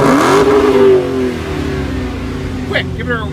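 Two 2015 Dodge Hellcat Challengers rev loudly up close, with one sharp rising roar that falls back into a rumbling idle while people talk and shout nearby.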